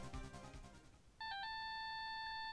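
A phone ringtone in the Phoenix Wright Ace Attorney game plays as a clear electronic melodic tone, steady and pulsing after a short musical lead-in, fairly loud and alone.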